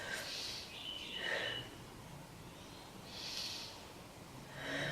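Slow, deep breaths during a yoga pose, airy inhales and exhales repeating in a calm rhythm, close and soft with no talking.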